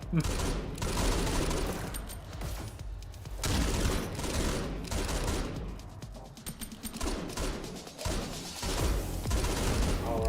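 Sustained bursts of rapid gunfire from a VR shooter game in an e-sports league match, dense and continuous throughout, with voices talking over it.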